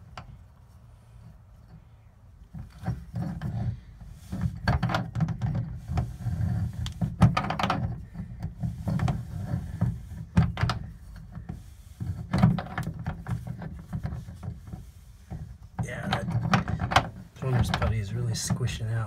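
Wrench work tightening a tub drain flange nut, with a 2-inch socket braced underneath, in the bathroom of a 1988 Avion 34X travel trailer; irregular close clunks, scrapes and knocks come in uneven bursts, with brief talk mixed in.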